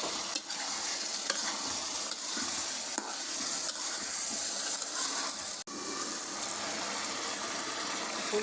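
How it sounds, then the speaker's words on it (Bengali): Cauliflower stirred in a frying pan with spiced oil, steady loud sizzling with scraping stir strokes and one sharp knock, close up. "ফুলকপি দিয়ে দিলাম, লাড়া দিয়ে দিলাম"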